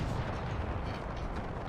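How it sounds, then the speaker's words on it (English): Artillery fire in Napoleon: Total War booms as a continuous, rumbling barrage, dense and heavy, with no clear gaps between the distant cannon reports. "Target him with the artillery."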